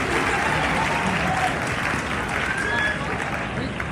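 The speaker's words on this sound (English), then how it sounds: "So please give them a round of applause" Steady, dense applause from an audience at a school choir awards ceremony fills the hall, even and sustained throughout without breaks.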